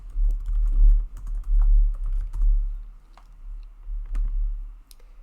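Steady typing on a computer keyboard while entering an answer into a website builder, with close, crisp key clicks in quick irregular clusters separated by short pauses.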